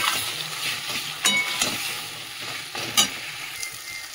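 Browned onions and marinated spices sautéed in a pan for mutton, a close, steady sizzle with sharp scraping strokes of a spatula at intervals and occasional louder clacks against the pan, with no talk.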